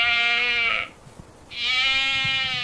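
Awassi sheep bleat twice in quick succession, two loud close nasal cries separated by a short pause, with no talk.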